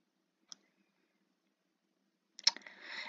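A computer mouse gives one faint, crisp click, then after a pause a louder burst of clicks followed by soft clattering, all close by with no talk.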